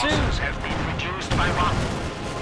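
Heavy artillery barrage in the Company of Heroes 2 strategy game, with repeated booming blasts and rumbling impacts crowding close together, loud and continuous, while a commentator talks over the battle.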